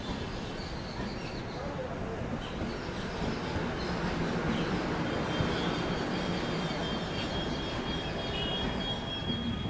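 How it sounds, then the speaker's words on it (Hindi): Shanti Express arriving two minutes late at Chhayapuri railway station, a steady broadband rumble of rolling wheels and carriages with faint high squeal tones, continuous and fairly loud throughout, with a voice faintly present. "हमारी ट्रेन निर्धारित समय से 2 मिनट की देरी से पहुंच रही है छायापुरी रेलवे स्टेशन।"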